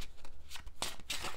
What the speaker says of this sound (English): So if y'all feel like I'm shuffling, just fast forward.